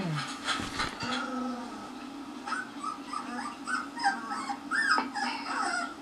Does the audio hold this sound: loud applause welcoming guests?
no